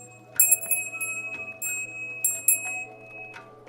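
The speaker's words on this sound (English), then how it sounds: "Here's the bell." A small bell rung several times in quick, uneven strikes, each bright ringing tone sustaining briefly over a quiet room with a faint low hum.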